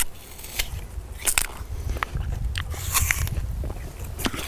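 A crisp Cybelle apple is bitten several times, each bite giving a close, loud crunch followed by juicy chewing. There is no talk.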